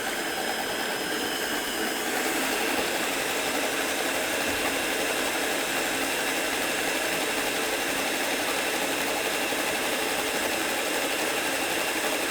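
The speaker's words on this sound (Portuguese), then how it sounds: "E agora eu venho aqui para a batedeira com as claras. Vou bater essas claras um pouquinho." A stand mixer beats egg whites in a steady, continuous motor whir with a bright rattling edge, loud and close, running alone without pause.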